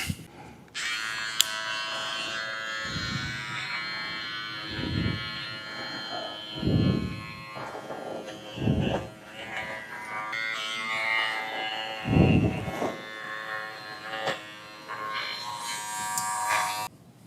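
Electric clippers bevel the hair on a poodle's foot, a steady close buzzing hum that runs almost throughout and rises and dips in pitch and strength as the blade presses into the fur.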